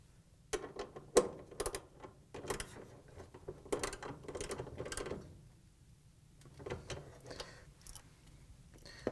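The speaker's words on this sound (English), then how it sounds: "you can grab your 10mm socket and ratchet and tighten it down." A 10mm socket and ratchet tighten the idler pulley bolt on an LG dryer, giving a run of quiet, close ratchet clicks in uneven bursts with short pauses between them.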